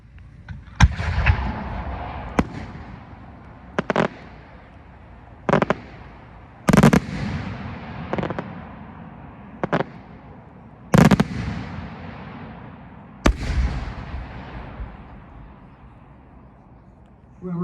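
Aerial firework shells at a fireworks festival burst in a series of about ten sharp, loud reports spaced every second or two, each echoing briefly against a quiet outdoor background.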